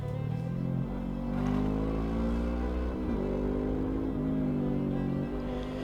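Motorcycles cruising on the road near Montalivet, with a Harley riding ahead, giving a steady engine drone that shifts pitch as the riders change speed. Wind rush sits under the constant hum, and no voices are heard.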